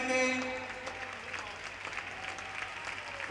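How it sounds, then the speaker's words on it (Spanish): Rhythmic clapping from an indoor athletics crowd cheering on runner Leticia Fernández at a Galician indoor track championship, steady and fairly loud, with an announcer's voice running over it. "Vamos con esas palmas con Leticia Fernández"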